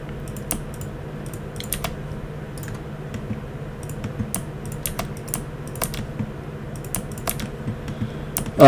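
Clicking keys on a computer keyboard as a number is typed in, a string of light, irregular taps close by over a quiet background with no speech.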